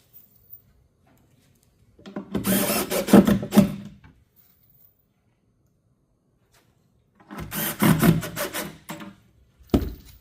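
Two bursts of screws being driven into a cabinet, each lasting about two seconds with a buzzy wooden grind, separated by quiet, then a short final thump.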